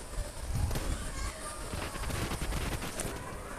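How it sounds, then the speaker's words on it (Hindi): Gunfire in a battle royale esports scrim sounds faint and scattered behind an excited Hindi-speaking caster, who talks over it throughout. A few sharper distant shots pop out amid the crackle of the firefight. "यहाँ पर बहुत से शॉट्स पड़ते हुए इनकी साइड"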